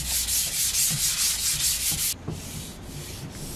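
Guitar wood being sanded with 400 grit sandpaper: close, rhythmic back-and-forth rubbing strokes for about two seconds, then quieter scattered handling sounds.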